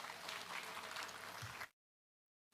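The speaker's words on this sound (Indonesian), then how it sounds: "Oke, tepuk tangan untuk kita semua." An audience at a ceremony claps in a brief burst of dense applause that cuts off abruptly into silence.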